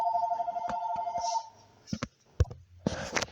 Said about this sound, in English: that was just a phone call and everything.